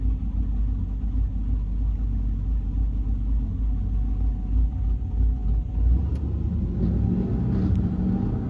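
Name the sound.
cammed Chevy SS V8 engine rumbling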